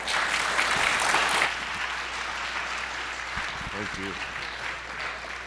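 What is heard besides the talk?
applause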